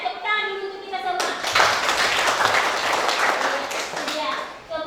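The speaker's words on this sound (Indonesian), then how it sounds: "tepuk tangan dulu untuk kita semua" Classroom students burst into brisk, close clapping mid-lesson, a busy rattle of small hands that starts abruptly after a teacher's voice and tails off as she speaks again.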